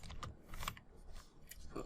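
Typing on a computer keyboard, a few quick soft key clicks close by, faint and brief.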